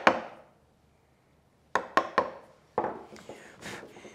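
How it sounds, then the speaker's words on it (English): A wood chisel chops into wood to cut a butt hinge mortise for a cabinet door: one sharp strike, then a pause, then a quick series of close, percussive chops and knocks with short scraping rubs. "as I start chopping down, now I have somewhere for the chisel to push the waste"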